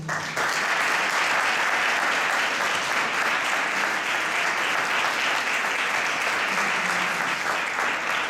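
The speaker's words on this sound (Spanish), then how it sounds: "Lo recibimos con un cálido aplauso." Audience at a lecture on family in the history of the Argentine Civil Code applauds warmly to welcome a speaker, a steady, dense clapping that fills the room from start to finish with no voices over it.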